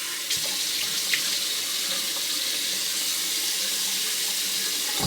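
A bathroom tap runs steadily into a sink for a face rinse after a wet shave. The water rushes up close in an even flow.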